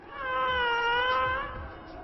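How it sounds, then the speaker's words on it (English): A domestic cat gives one drawn-out, tonal meow that rises and then tapers off, heard close and alone for about two seconds. "we have real cats. Domestic cats, even."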